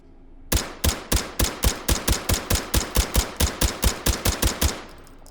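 A suppressed Uzi Pro fires in the VR shooter H3VR, about twenty evenly spaced, crisp muffled shots in a steady rapid rhythm, close and distinct, with a short mechanical tail after the last one.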